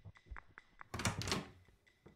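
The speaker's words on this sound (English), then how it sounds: "Who closed that door?" A door swings shut in a VR game with a broad, close thump of about half a second, preceded and followed by short clicks and scuffs.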